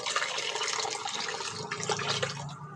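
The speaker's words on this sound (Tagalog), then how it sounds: "Siyempre, lagyan natin tubig." Water poured into a pot of mung beans for a bitter-gourd-leaf soup, a short splashing, gurgling pour at close range.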